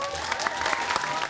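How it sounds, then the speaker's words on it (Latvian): A crowd applauds the Aglona team, a brief burst of steady clapping, with a voice faintly audible underneath. "Aplausi Aglonai!"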